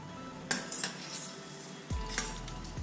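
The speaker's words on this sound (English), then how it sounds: "Now into the sauce, we're gonna add the steak back in" Steak added back into a mushroom sauce in a pan, with a few light clinks and scrapes of utensil against the pan and a soft low sizzle, close and fairly quiet.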